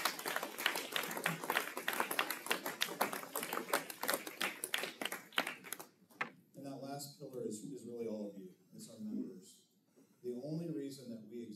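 Employees at a broadband provider's annual meeting get a round of clapping, dense and quick for about six seconds, before it breaks off and a voice talks over the room.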